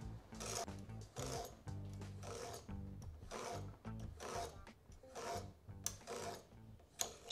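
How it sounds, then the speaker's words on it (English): A craft knife scores a line through wood veneer on antique furniture in repeated rasping strokes, each pass a short scratchy drag, close and fairly quiet with brief pauses between passes. "So I'm literally using a craft knife"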